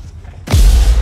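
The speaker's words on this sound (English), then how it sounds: "time to use that mortar" Mortar fire in an EA video game, a single heavy deep boom that bursts in sharply after a quiet moment and rumbles on at high volume.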